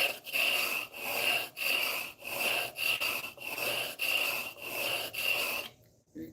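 Close, rough rasping strokes of a Stanley No. 4 hand plane taking test passes on wood after blade and chip breaker work, about eight even, rhythmic passes in a row before a quiet ending.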